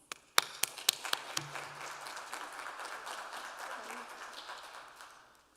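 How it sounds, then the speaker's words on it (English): A few scattered claps at a school board candidate forum swell into soft, sustained applause from a modest audience, heard fairly faintly and fading out after a few seconds. "Please join me in a warm round of applause for our candidates."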